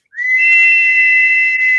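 A whistle designed to mimic an eagle's cry gives one steady, loud, high-pitched tone that is held for nearly two seconds before cutting off sharply.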